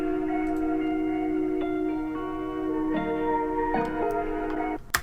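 A dark beat sample run through a Waves Cassette tape-emulation plugin plays alone, with sustained tonal chords shifting every second or so over a constant low noise floor, then ends in a brief clatter.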